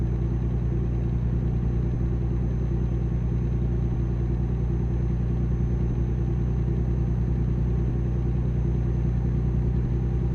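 A Peterbilt truck engine in American Truck Simulator: a steady, loud low diesel drone with a throbbing rumble, unchanging throughout, with no talk over it.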